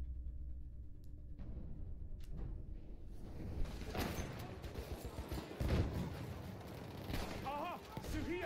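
Gunfire from a gun in Battlefield 1 on Xbox One X, quiet at first, then bursts of rapid shots thickening into a sustained fusillade amid game noise.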